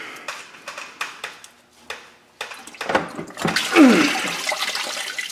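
Coolant gushes from a disconnected radiator hose on a Dodge Caravan 3.3L V6 into a bucket, a close splashing pour that starts after a few knocks and clanks and swells into a steady rushing flow.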